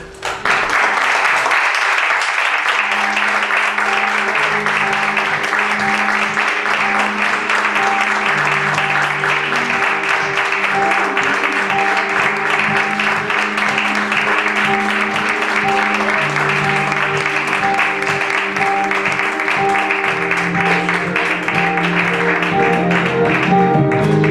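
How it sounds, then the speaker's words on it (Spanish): An audience at a political debate event gives sustained applause to two veteran speakers, Nuria Llenás and Pepe Torres, a loud, unbroken roar of clapping over a steady tonal background for more than twenty seconds. "Pido un aplauso para ellos, por favor."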